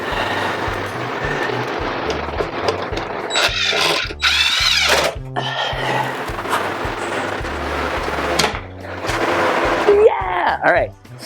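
A power drill drives screws while a dust collector blower motor is reassembled in a woodworking shop, giving loud bursts of whirring separated by brief pauses and handling clatter.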